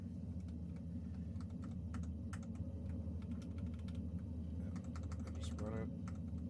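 Rapid clicking of a computer keyboard being typed on, steady and close throughout, with a voice speaking over parts of it.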